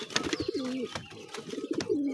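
Pigeons in a loft coo in repeated soft, throaty rolling phrases close by, with brief rustles and scuffles between the calls as one bird pecks at another.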